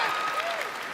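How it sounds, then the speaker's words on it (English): Crowd of human NPCs in Fallout 76 cheering and applauding, a steady wash of claps and voices mixed with faint speech throughout the short burst. "Look at them all cheering about that"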